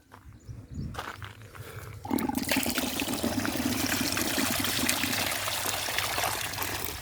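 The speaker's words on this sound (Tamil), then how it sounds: "இப்போ தண்ணி வந்து அடியில் சொட்டு நீர் பாசனத்துக்கு போயிட்டுருக்குது." Water rushes and pours steadily through pipes feeding drip irrigation in a young coconut grove, starting after a quieter opening and continuing loud and close to the end.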